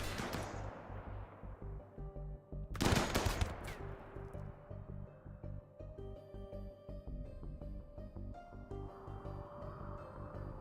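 Gunfire and turret shooting in the colony game RimWorld: a dense crackling burst of rapid shots rings out mid-clip over a steady, humming mechanical background, with an opening blast decaying away.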